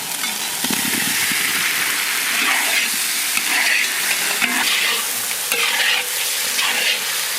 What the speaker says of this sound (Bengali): ভাজা আলুটা দিয়ে দেবো।